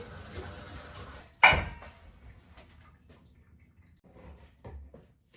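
Basins and dishes are washed and stacked at a home sink, with soft running water and light handling before one sharp, loud clatter of dishware, followed by quieter knocks and drips.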